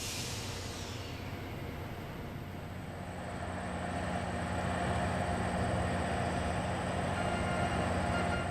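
Amtrak's 40th anniversary exhibit train, hauled by two restored Amtrak locomotives, rolls past with a steady, low rumble and rail hiss that grows slightly louder as it approaches.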